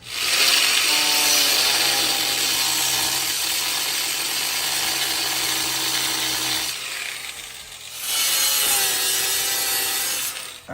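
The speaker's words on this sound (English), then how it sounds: "So I got to cut all this back with the grinder and just try not to hit anything." An angle grinder cuts back metal on an Acura RSX, a loud continuous high-pitched whine and rasp that dips briefly near the end before surging again, with no talking.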